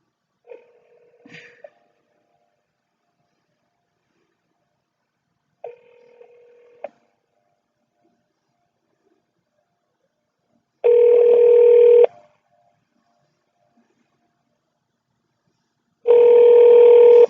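Touch-tone telephone dialing followed by a ringback signal on a call to a police dispatch desk, with short keypad tone bursts early on and then two long, loud ring tones repeating with a gap between them and no answer.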